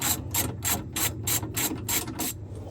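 A ratchet wrench clicks through about eight quick, evenly spaced strokes while loosening a rear shock bolt on a 2001–2002 Toyota RAV4, loud and close with no voices.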